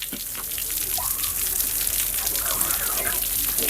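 Water gushes from an opened pipe at an elephant's side, a steady, loud, close rush of flowing water that runs without a break throughout.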